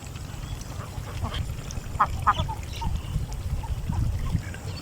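Ducks quack on monsoon floodwater in Chalan Beel, several short nasal calls scattered over a low watery murmur at moderate distance.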